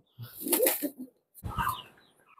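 Two high-flying pigeons, the parent birds of a loft, take off with a quick burst of flapping wings, then a second flurry follows after a short pause, close by and fairly clear.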